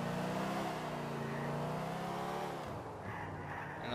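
A car in the video game GTA IV drives and revs, its engine a sustained drone that shifts pitch and then falls off near the end. No one speaks.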